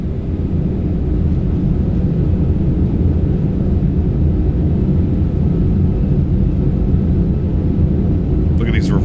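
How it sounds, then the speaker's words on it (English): Thrust reversers on an A340-300 airliner in Microsoft Flight Simulator 2024 produce a loud, steady low roar that holds throughout the landing rollout, with a brief higher rattle near the end. "Reversers are out. Decelerating."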